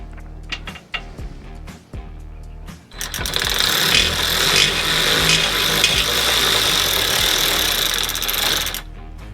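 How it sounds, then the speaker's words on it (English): An electric ratchet drives screws into a 4th Gen Tacoma's frame, with a few short mechanical bursts first and then a loud, steady whirring run lasting several seconds, close up. "I ended up getting it going over the frame with this configuration here with an electric ratchet"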